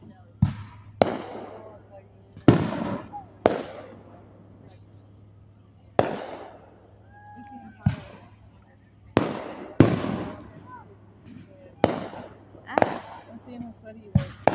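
Distant fireworks shows pop and thump at irregular intervals, about a dozen sharp bursts with short echoing tails over a faint background hum, heard from afar with no talk over them.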